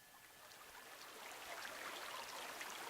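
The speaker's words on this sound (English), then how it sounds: "The distant sound of water became louder" Distant rushing water of the Sadanaga Rapids in the game Raging Loop, a steady broadband wash that swells slightly louder midway, faint and continuous with no voices.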